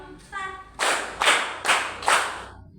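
Four sharp, loud group claps from a classroom, evenly spaced in a counted rhythm, each a broad burst, with a brief voice just before the first.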